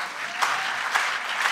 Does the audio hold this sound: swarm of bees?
no